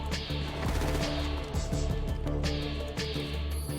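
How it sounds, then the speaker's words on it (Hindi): Sharp gunshots crack through a dense, loud GTA V game soundscape, with several bursts spaced irregularly over a constant rumbling background. "ओके, गोली चल पड़ी है"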